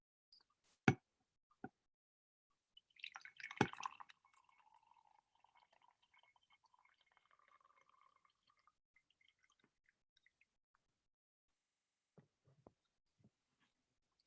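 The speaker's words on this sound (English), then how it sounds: "I'm going to pour myself a little more coffee" Coffee poured into a cup: a soft clatter, then a thin, quiet trickle that fades, followed by a few faint knocks in an otherwise silent room.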